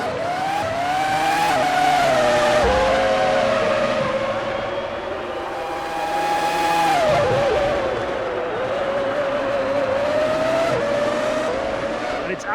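Formula One cars from the 2003 game roar past at the Austrian Grand Prix, high-revving engines rising and falling with gear changes as one leaves the pits, loud and continuous with a commentator talking over them.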